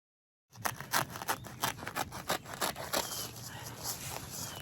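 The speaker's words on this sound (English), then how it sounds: "So I found these scissors. I'm gonna go ahead and cut it at the end." Scissors snip through weed fabric in a quick series of crisp cuts with rustling and scraping of the material, close and fairly quiet, with no talking.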